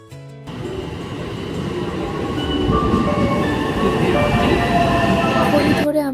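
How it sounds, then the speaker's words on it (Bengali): A train pulls into a station during a Miyajima day trip, a steady rumble of wheels and carriage noise building and growing louder as it arrives, with faint squeals above the roar. "আমাদের ট্রেন চলে এলো"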